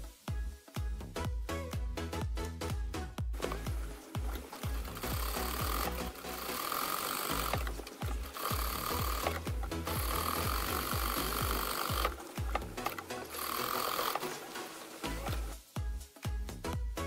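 A sewing machine runs in long steady bursts, basting fabric pieces of a cosplay dress with a long stitch, with short pauses and handling clicks between runs.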